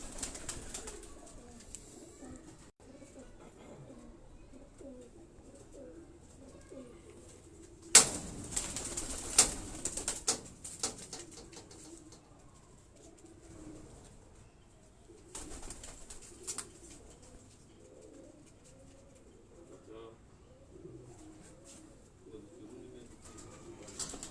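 Green-necked Nag breed pigeons coo softly and repeatedly on a rooftop loft, with bursts of wing flapping midway, all fairly quiet and close.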